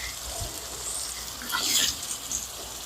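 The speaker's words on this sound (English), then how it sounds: "you can see it's still good and sizzling" Soft, steady sizzling and crackling of Cajun pepper steak frying in a pan, with a slightly louder burst of spatter partway through.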